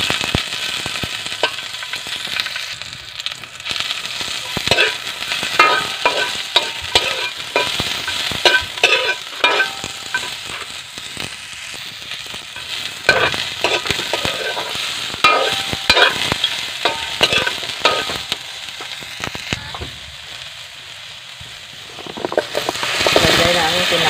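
Aromatics frying in a little cooking oil for coconut-milk pinakbet, sizzling and crackling in the pan with repeated stirring scrapes while a person talks over it.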